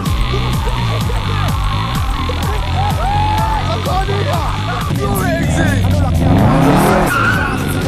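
A stolen car is driven off in a film scene, its tires skidding and squealing in repeated screeches over a roaring engine, with crowd noise, voices and music underneath throughout.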